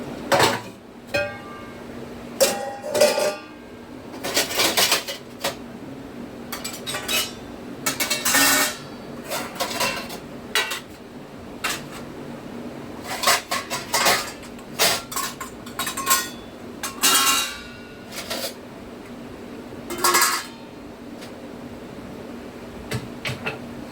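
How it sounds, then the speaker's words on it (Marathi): Cooking pots and dishes being set onto a kitchen rack, with scattered clanks, clinks and metallic knocks at irregular intervals over a low steady background hum, close by and without speech. "भांडे मांडणीला लावायचे आता एवढे."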